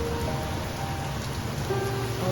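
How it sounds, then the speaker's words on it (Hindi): Steady rain falling outdoors during monsoon weather, a dense continuous hiss of drops pattering on surfaces, fairly loud and even throughout with no voices. "और बारिश भी स्टार्ट हो गई है"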